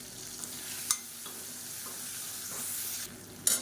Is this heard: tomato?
yes